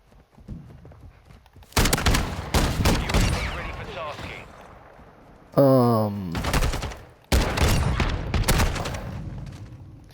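Gunfire from the Viper 12 in Modern Warfare II (2022), loud rapid bursts cracking in three separate volleys with a brief tonal whine between them, close and dominant.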